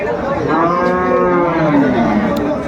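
Sahiwal cattle at a livestock market, with one long, loud, drawn-out moo that fills nearly the whole stretch, close by, over a low crowd murmur.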